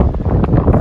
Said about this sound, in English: And a very windy, very dangerous weather today.